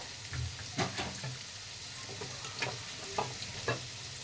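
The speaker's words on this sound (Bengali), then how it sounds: "ভালো করে ভাজতে হবে এগুলো আস্তে আস্তে করে।" Chicken pieces for chili chicken fry slowly in a pan, giving a steady close sizzle broken by a few sharp spatula scrapes and taps as they are turned.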